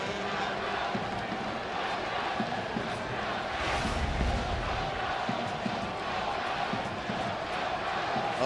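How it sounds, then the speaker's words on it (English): Baseball stadium crowd at an Angels at Athletics game buzzing after a spectacular catch, a dense, steady roar of many voices filling the whole stretch at a distance. "Oh, that has the crowd buzzing."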